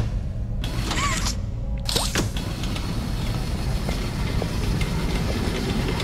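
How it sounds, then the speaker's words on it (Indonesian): A train in the Poppy Playtime Chapter 2 video game rumbles and creaks along steadily, with a continuous low mechanical roll and faint metallic squeaks throughout, without any talking. "Sudah bisa untuk dijalankan ini kereta."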